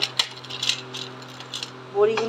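A few dried lentil dumplings (bori) dropped into a pan, giving several small light clinks and taps over a low steady hum, followed by a brief soft sizzle at the end.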